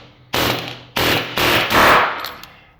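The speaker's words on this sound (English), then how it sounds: "What I do is I line, hammer up on top of the weld," A hammer strikes a weld on a large transformer core, with four loud sharp metallic blows spaced about half a second apart, each ringing briefly, close and with no talk.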